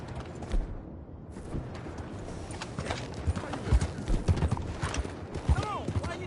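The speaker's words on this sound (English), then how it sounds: "That's what you call a prize-winning horse it is." Horse hooves clip-clop in a steady rhythm in a PS4 video game, close and fairly loud, with a brief whinny near the end and speech over the hoofbeats.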